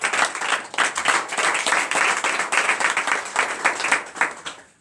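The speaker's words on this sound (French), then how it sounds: "Sur nos pieds et acclamons le Seigneur très fort." A church congregation at a Saturday morning prayer service in Benin claps loudly and steadily in a dense, continuous rhythm, with faint voices mixed in.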